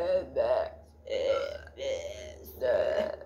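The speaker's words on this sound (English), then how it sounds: "Belch." A person belches repeatedly during a party game with a friend, producing four drawn-out, throaty burps in a steady rhythm. They are close, loud and sound voiced, almost like forced, vocalized belching, with no other talk.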